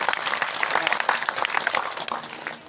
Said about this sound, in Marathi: त्यांच्यासाठी एकदा जोरदार टाळ्या वाजवा